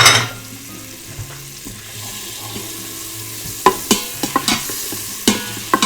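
Butter melting in an Instant Pot on the saute setting gives a soft, steady sizzle, joined later by a cluster of sharp scrapes and taps of a utensil against the inner pot.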